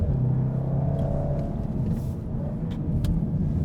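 Engine rumble inside a 2015 Volkswagen Golf R as it drives, a steady low drone with a brief rise and a couple of faint clicks from gear shifts.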